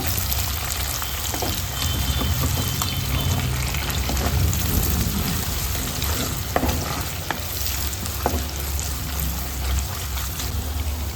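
Chopped onions sizzling loudly in hot oil with spluttering mustard seeds for a wedding-style beans palya, a dense close crackle with sporadic stirring clicks, no talking.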